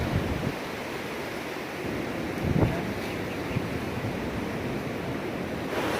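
Strong Super Typhoon Rolly winds roar steadily and buffet the microphone in a continuous, rushing gale, with occasional louder gusts.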